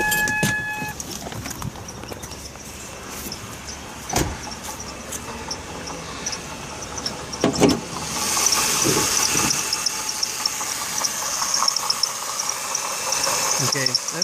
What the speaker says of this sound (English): that's the alternator there, and it's humming away like it should. Got little chirps coming down there from the water pump.